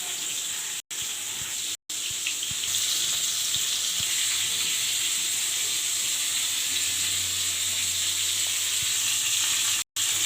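Potatoes and pointed gourd with turmeric and salt fry in a pan, giving a loud, continuous close-up sizzle that runs nearly unbroken for ten seconds, with only a few momentary dropouts.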